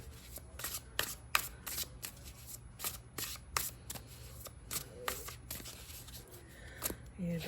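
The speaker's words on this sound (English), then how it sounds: "I'm going to shuffle them until I hear" A tarot card deck is shuffled by hand in quick, irregular bursts of crisp riffling and flicking, close and fairly quiet, with short pauses between passes.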